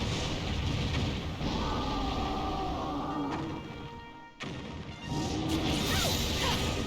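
In Dragon Quest Heroes II, a martial artist's staff attack lands on an enemy in a burst of loud crashing whooshes and impacts, a brief lull, then another dense clash of game effects, with no talk.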